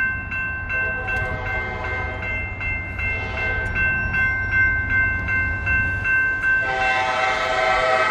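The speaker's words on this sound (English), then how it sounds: "Well, we got a train right there." A train rolls past close by, its horn sounding in a long sustained blast over the rumble and rhythmic clatter of wheels, the noise swelling louder and brighter near the end.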